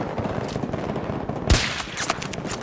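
Gunfire in the shooter game Battlefield 2042: a steady wash of distant automatic fire under a noisy battle ambience, with one sharper, louder shot near the middle and a few lighter cracks after it.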